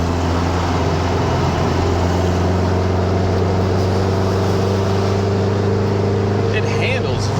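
Steady engine drone of a 1967 Volkswagen Beetle while driving, a continuous loud hum with strong low tones that barely changes as it goes into fourth gear, with faint road noise.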